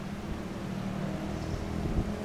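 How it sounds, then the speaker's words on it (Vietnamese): Wooden boat loaded with dry coconuts passing on a small canal, a steady low engine drone with faint wind noise, continuous and moderately distant. "Đây là một chiếc ghe dừa nè."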